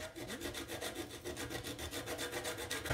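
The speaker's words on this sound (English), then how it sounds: "So the zest of one lemon." Lemon zest scraped off on a grater, a close, regular rasping stroke repeated about a dozen times in a steady back-and-forth rhythm, with no talking.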